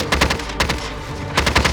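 Gunfire in a video game rattles out in two quick, loud bursts of rapid shots separated by a short pause, with no voices over it.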